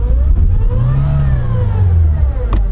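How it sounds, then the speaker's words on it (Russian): A UAZ Patriot engine revs hard and close while pulling a car out of mud in the rain, its loud roar climbing in pitch and then sinking back down over a couple of seconds. "А сейчас Миша вытаскивает патриотом. Пока не едем, еще рывок."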